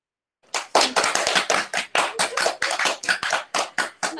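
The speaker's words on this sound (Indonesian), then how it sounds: "Tepuk tangan kita semua." An audience breaks into applause at an informal Sunday-morning business talk, with brisk, steady clapping that starts after a short pause and carries on for about four seconds.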